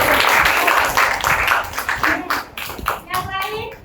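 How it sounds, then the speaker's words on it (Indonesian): Children clap their hands in a dense, fairly loud burst that gradually thins out toward the end, with young voices speaking over the clapping. "Tepuk tangan dulu."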